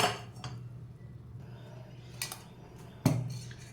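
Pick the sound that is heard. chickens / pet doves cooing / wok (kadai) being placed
wok (kadai) being placed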